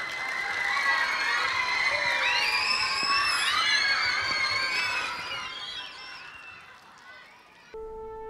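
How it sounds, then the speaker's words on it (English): A crowd at the Bina Bangsa School Malang twentieth-anniversary celebration cheers and shouts loudly and steadily, with high children's voices prominent, before the noise fades out near the end. "Please give a round of applause."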